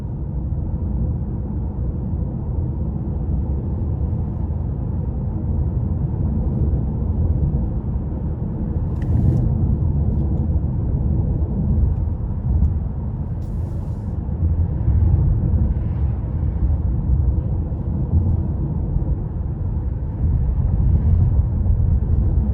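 A 2021 Cadillac CT5 Premium Luxury with a 2.0-litre turbo engine drives along, giving a steady low cabin rumble of engine and road noise that holds throughout with a few faint higher touches.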